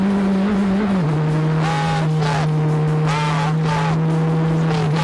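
A Formula 1 race car driven by a first-time driver, its engine holding a loud, steady high drone that dips slightly and then carries on close by, with brief bursts of noise layered over it.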